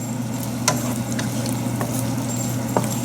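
Mixed tomatoes sizzle in a pan over medium heat, a steady close hiss with a few faint pops and ticks scattered through it.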